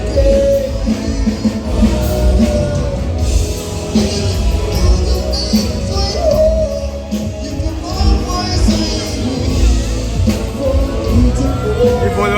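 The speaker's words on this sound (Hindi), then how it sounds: "बहुत भीड़ है।" A dense crowd fills Walking Street in Pattaya at night, with a constant loud wash of chatter, shouts and club music that never lets up.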